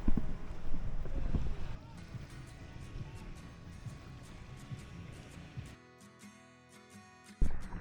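Gusty wind rumbles across the microphone over water at Laki Beach in Bataan, with a steady broadband roar that drops out briefly before a loud buffet returns.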